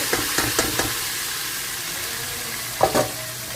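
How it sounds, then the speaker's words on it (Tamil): Marinated chicken fries in oil with bay leaf, cinnamon and cumin, a constant crackling sizzle broken by a few quick clattering scrapes of stirring near the start and a louder pair toward the end, with no voices. "ஸோ பே லீஃபு, பட்டை, சீரகம் போட்டு கொஞ்சம் எண்ணெய் ஊற்றிருக்கோம். நம்ம மேரினேட் பண்ண சிக்கனை கலக்கி."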